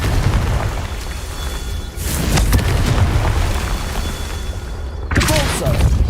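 A Confringo spell in the video game Hogwarts Legacy sets off loud booming blasts, with a couple of sharp explosive bursts over a constant dense rumble of game sound.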